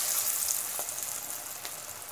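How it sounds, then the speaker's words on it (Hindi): Cabbage pakoras fry in hot oil, giving a steady, fairly loud hiss of bubbling with faint clicks of batter pieces added. There is no talking. "तेल हमारा गरम हो चुका है, अब हम पकौड़े को फ्राई करने के लिए देंगे।"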